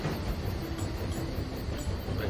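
A train running in the rail management game Tiny Rails, producing a steady, dense rumble of rolling wheels and carriages with no break.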